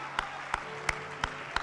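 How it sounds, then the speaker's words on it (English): A church congregation claps in unison with an even, quick rhythm, producing five crisp, evenly spaced claps over a soft room hum. No voices can be heard. "Oh, clap your hands, all you people."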